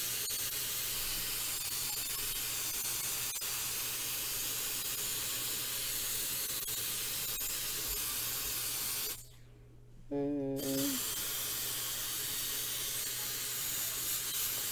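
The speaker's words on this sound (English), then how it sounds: "Right, now we gotta do the spray." A spray bottle gives a broad, steady spraying hiss almost the whole time, broken once by a brief pause before it resumes, close and loud.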